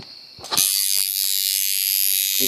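A coil tattoo machine set up as a punchy color packer buzzes loud and steady after a brief start, running continuously with no talk over it.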